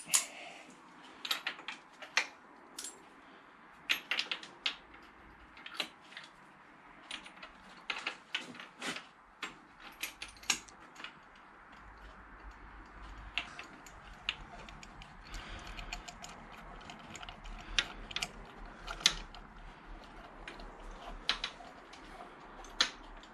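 Ratchet clicking in quick irregular bursts while snugging bolts on a 1994 Triumph Sprint 900 motorcycle, close and fairly quiet, with pauses between runs of ticks and no talking.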